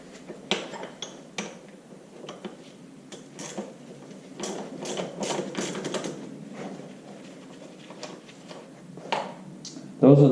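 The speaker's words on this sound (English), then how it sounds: "it takes a 3/4 inch wrench to get them out" Metal clinks and taps sharply and unevenly as a 3/4 inch wrench loosens short bolts at the rear of an IHC Farmall Super MTA tractor engine. Someone talks quietly underneath.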